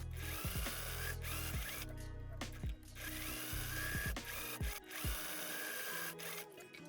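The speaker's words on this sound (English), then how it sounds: "I'm just gonna stitch down wherever I marked, just stitching in the 3 boning channels" A sewing machine stitches down boning channels on a layered wedding dress bodice, running in short motor bursts that rise and stop repeatedly, with a rattling mechanical whir close by and brief pauses between runs.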